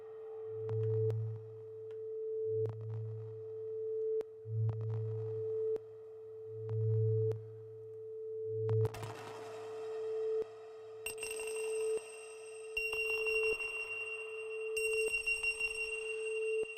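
A steady synthesized tone pulses in a regular rhythm with low thumps, then turns glitchy and bright with stuttering, chopped high-pitched artifacts from the GlitchScaper iOS app.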